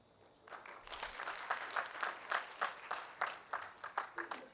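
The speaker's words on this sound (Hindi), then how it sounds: "तालियों में कंजूसी नहीं करें" A seated audience in a hall claps in a fairly even rhythm that starts softly and grows into a string of distinct, regular hand claps, heard faint and somewhat distant.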